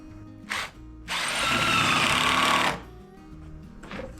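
A power drill whirs on a house eave, driving screws into trim boards. A short burst comes first, then a longer sustained run of about a second and a half and a brief final blip, close and loud, with no talking.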